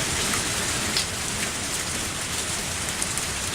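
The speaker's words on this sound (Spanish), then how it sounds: "No podemos avanzar más con esta jodida lluvia." Steady, heavy rain falls in a video game scene, a dense hiss of drops on surfaces with faint scattered patters and no voices.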